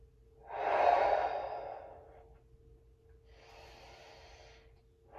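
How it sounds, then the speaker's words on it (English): Slow, deep breaths during a seated chair stretching exercise: a long, fairly loud exhale followed by a quieter second breath, close and unhurried, with a faint steady electrical hum beneath. "Continue your deep breathing"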